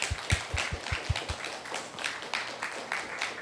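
Scattered applause of encouragement from a young adults' church congregation at a Sunday service, with a run of sharp, close claps early on, then looser, softer clapping continuing to the end.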